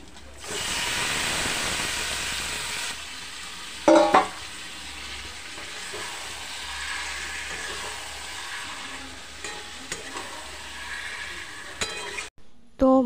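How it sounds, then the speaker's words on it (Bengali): Marinated mutton fries with spices in a hot wok (kadai) while it is stirred. A loud, continuous sizzle and hiss carries throughout, with a few sharp clanks of the spoon against the metal. "মশলার সাথে মটনটা খুব ভালো করে কষাতে হবে।"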